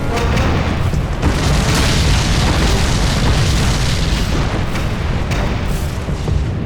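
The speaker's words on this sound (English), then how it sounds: "I say fire, 9 tank main gun rounds impact simultaneously" Nine tank main gun rounds strike at once during the Battle of 73 Easting, heard as a loud, continuous booming roar of explosions that stays heavy throughout.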